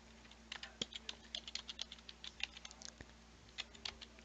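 Typing on a computer keyboard while entering a new user password in a CMS admin screen: quick, irregular clusters of light keystrokes, close but faint, with no talking.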